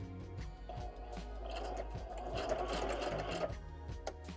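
A sewing machine stitches through the pages of a handmade junk journal, a continuous rapid mechanical chatter up close with small thumps and clicks as the work moves, and a faint voice in the background.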